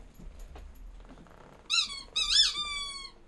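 A dog's rubber squeaky ball toy gives two bursts of sharp, high, wavering squeaks, one after the other, fairly close, with faint rustling before them and no voices.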